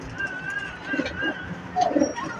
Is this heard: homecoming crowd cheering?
no